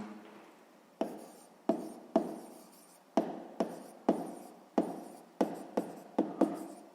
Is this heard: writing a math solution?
yes